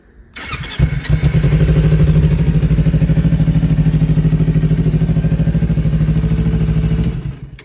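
A Kawasaki Ninja 250 motorcycle from 2015 fitted with an aftermarket exhaust starts and idles close by with a loud, steady, throbbing pulse, then cuts off abruptly near the end.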